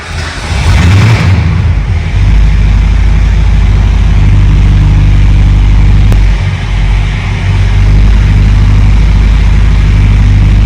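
A 1978 cruising van with a 351 engine idling on a cold morning, a loud, close, steady low rumble that holds an even idle throughout, with no talk.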